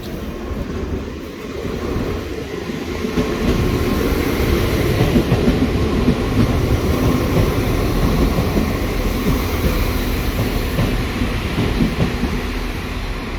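A train from Portrush rolls past close by at the Coleraine station level crossing, its loud rumble and wheel clatter swelling after a couple of seconds and holding steady, with no voices.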